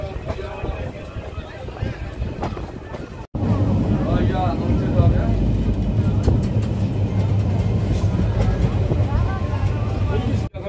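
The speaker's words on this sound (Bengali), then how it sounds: "ছেড়ে দিল আমাদের ট্রেন দেবগ্রাম।" Local train pulling out of Debagram station on a run between Azimganj and Krishnanagar, a loud continuous rumble and rattle of the moving carriages with wind noise, heard from on board.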